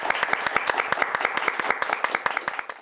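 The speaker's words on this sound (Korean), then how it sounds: "여러분 박수 부탁드릴게요." Audience clapping at a senior-focused Catholic lecture event welcoming a woman professor onto the stage, a steady patter of many hands with distinct sharp claps, fairly close and sustained for a few seconds.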